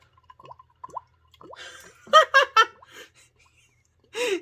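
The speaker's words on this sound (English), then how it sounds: "Did you hear it glurging around the ice ball?" Starbucks cold brew coffee is poured over a large ice ball, gurgling and glugging in a few close, bubbly bursts, then dripping softly. No one talks.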